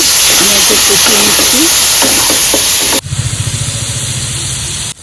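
Water poured onto salt, turmeric, cumin and chilli powder in a hot pan for a bata fish curry with pumpkin stems bursts into a loud, steady hiss with a pulsing sputter, after several seconds of a voice talking over quieter background hiss.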